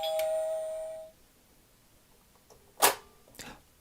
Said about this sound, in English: Let's ring the doorbell and see who's behind the door.